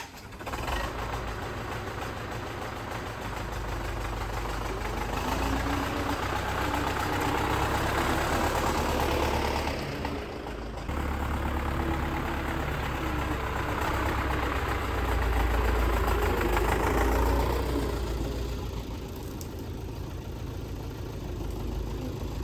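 A YuMZ-6 tractor engine idles steadily at close range, a continuous low rumble with slight knocking texture, briefly dipping once before resuming, with no talk over it.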